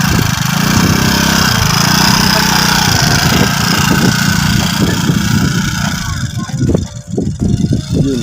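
Motorcycle engine on a test run, idling with a steady mid-pitched chug that later turns rougher and uneven as the throttle is blipped, with voices talking over it.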